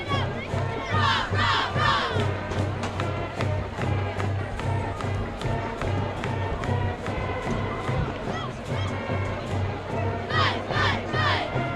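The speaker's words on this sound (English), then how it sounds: "How about a huge round of applause to all past and present members of" A high school football homecoming crowd at a Columbia Eagles versus Salem Wildcats game applauds and cheers loudly for past and present players, with sustained shouting and clapping over a rhythmic low drumbeat.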